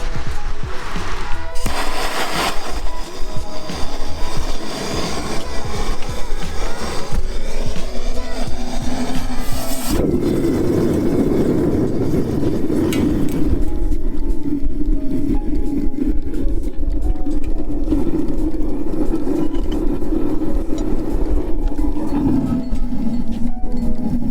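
A small homemade furnace built from an old gas bottle roars to life, a steady loud burner rush that deepens and thickens midway into a continuous dense roar with no talking.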